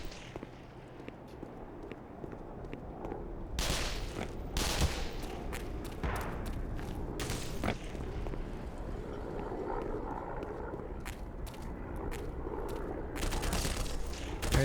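Enemy turret gunfire in the video game Black Mesa, sharp loud bursts of shots breaking out repeatedly over a noisy backdrop of action, alone without talk.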